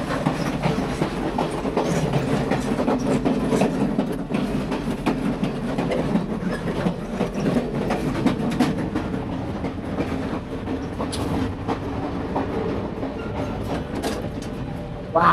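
Passenger train riding through a snowy desert landscape, steady rumbling roll with rhythmic clickety-clack of wheels on rail joints, heard from inside a carriage at moderate level.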